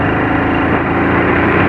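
A motorcycle engine runs loud and close with a steady droning hum as the throttle is twisted, holding an even pitch throughout.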